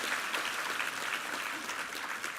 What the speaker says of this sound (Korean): 김성수 지휘자와 이부 성가대 위해서 한번 힘찬 격려의 박수 부탁합니다